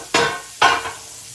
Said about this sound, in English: Now we're going to let those cook.